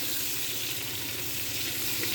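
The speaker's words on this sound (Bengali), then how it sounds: "পেঁয়াজটা ভাজা হয়ে নিলে আমি এর ভিতরে মাছটা দিই। এটা ভালো করে এখানে ভাজবো 10 মিনিটের মতো" Fish fries with onions in a pan, making a brief, steady, close-up sizzle with no voices.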